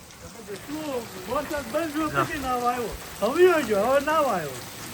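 Heavy rain falls in Savarkundala as a steady hiss in the background, while people talk loudly close by over it throughout.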